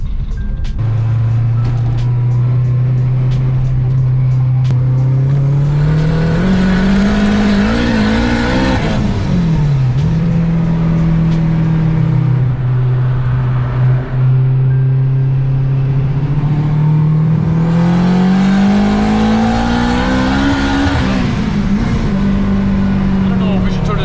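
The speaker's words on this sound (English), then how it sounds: "I'm gonna let Brian take the wheel on this one." A Honda Civic with a new turbo setup driving under load, a loud steady engine drone that rises in pitch with two climbs through the revs and a shift between them, heard from inside the car.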